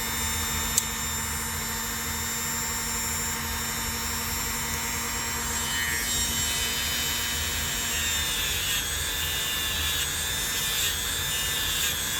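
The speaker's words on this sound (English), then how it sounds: "just a little brush on there, sure cleans them up" A brush scrubbing rust off metal, making a steady, close, continuous abrasive hiss that runs unbroken from start to finish with no talk.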